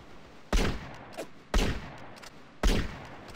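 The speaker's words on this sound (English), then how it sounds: "I have a gun. Can I just shoot these men instead of just?" Three loud, sharp gunshots in GTA San Andreas as the player shoots guards, spaced roughly a second apart, each with a short ringing tail over a low ambient hum.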